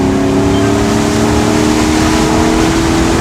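An engine on a redneck-style nitrous install roars during a nitrous hit, a very loud, constant, close drone with a steady low tone and no break or speech.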